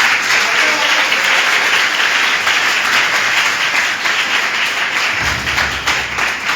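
Guests at a civil wedding ceremony break into loud, sustained applause, dense clapping close by with a few voices underneath and a low thump near the end.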